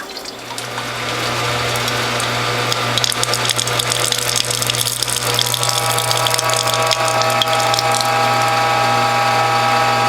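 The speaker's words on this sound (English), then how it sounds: "we'll put them in the press and press the water out" A ratchet juice press squeezes water out of cloth-wrapped produce such as beets, greens, ginger and carrots, giving a steady close mechanical clicking and grinding with liquid gushing underneath, continuous and loud, with no voices.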